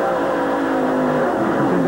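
A NASCAR stock car racing at Watkins Glen in 1993 drones steadily at close range, its engine running loud and continuous with no pauses or voices.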